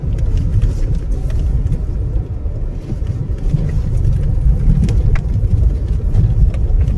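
A car climbs a steep, rough mountain road beside the Teesta toward Peshok in North Bengal, a steady low engine and road rumble heard from inside throughout.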